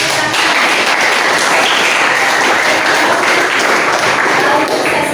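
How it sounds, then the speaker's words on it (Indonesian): A classroom of students claps together in a dense, even burst of applause that stays loud and steady throughout, with no distinct voices on top. "kita berikan tepuk tangan"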